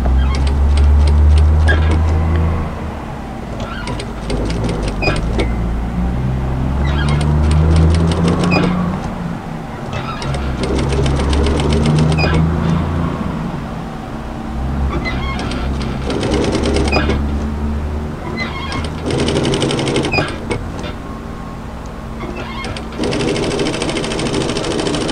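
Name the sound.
sewing machine stitching a camisole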